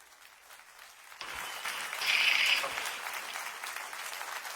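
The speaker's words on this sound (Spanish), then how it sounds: "Ese aplauso más fuerte para el Señor" Church congregation applauding during a Sunday service, starting abruptly after a quiet moment and swelling to a steady, loud roar of many hands that holds on without fading.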